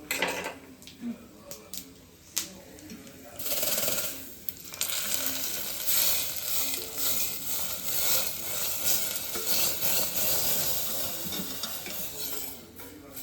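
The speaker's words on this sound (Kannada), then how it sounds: "ಸಾಂಬಾರ್ಗೆ ಒಗ್ಗರಣೆನಾ?" Steady crackling sizzle of tempering spices frying in hot oil for sambar, close by, with a few metallic clinks and brief stirring sounds at the start.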